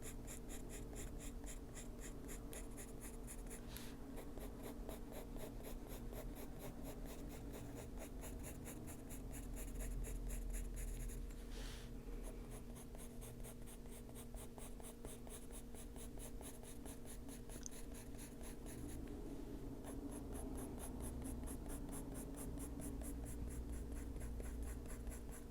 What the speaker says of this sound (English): Put a little more pressure on this pencil.